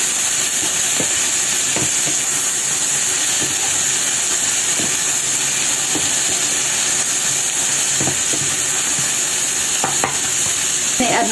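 Bitter melon (ampalaya) stir-fries with pepper in a hot pan, a loud constant sizzle and hiss punctuated by regular scraping knocks of a spatula stirring, with no voices.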